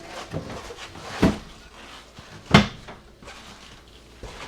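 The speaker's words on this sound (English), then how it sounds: "You have got this really neat pull-out spice rack." Wooden parts of a pull-out spice rack in a 2026 Forest River Cherokee Sabre 36EST slide and knock shut a few times, with sharp thuds spaced out over light background rustling.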